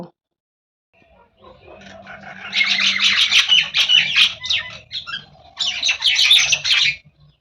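Birds squawk and chatter loudly and close by in two busy bursts, harsh overlapping calls after a quiet start.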